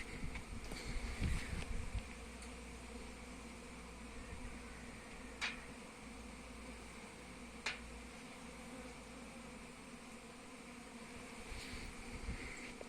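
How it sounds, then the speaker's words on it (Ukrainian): A steady low hum of many honeybees droning together during a flight around the hive, soft and continuous, with a few faint clicks and bumps nearby. "Ось як чути, який приємний гул бджолиний"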